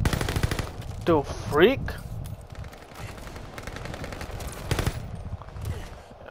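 Rapid bursts of automatic fire from the Marco 5 in Call of Duty Vanguard, several short volleys in quick rhythm, close and loud, with a player talking over them.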